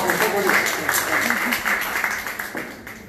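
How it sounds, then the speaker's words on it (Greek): An audience applauds at an event about a producer of oils from Kozani, a brief round of clapping that fades over a few seconds beneath someone speaking. "Δώστε ένα χειροκρότημα."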